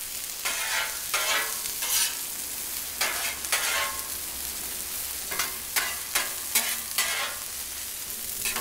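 Peppers sizzle on a Blackstone griddle, with steady frying hiss and repeated bursts of scraping and stirring from a spatula at close range.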